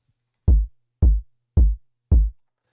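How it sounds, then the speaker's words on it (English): A fat, clean kick drum sample in Ableton plays four evenly spaced hits, each a deep, punchy low thump with a short decay, on its own with nothing else underneath. "It's like a really fat, clean kick"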